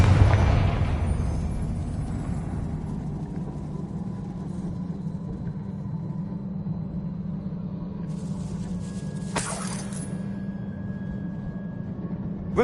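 A Confringo blast from the PS5 game Hogwarts Legacy: a loud, booming burst at the start fades into a steady low rumble, then a second sharp crack bursts out near the end.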